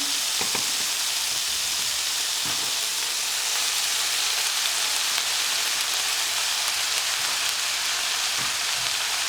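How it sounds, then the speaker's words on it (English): Minced meat for chilli con carne sizzles steadily in a hot pan, a close, continuous hissing crackle with a few faint clinks, no voices. "I'm just going to chuck my mince in"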